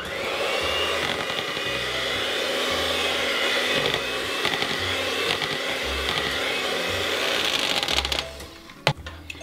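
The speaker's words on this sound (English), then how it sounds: "We're just going to whisk this through." Mincemeat cake mixture laced with brandy is whisked in a bowl, giving a steady, busy scraping and swishing with soft rhythmic knocks, close and continuous, tapering off with a couple of sharper taps at the end.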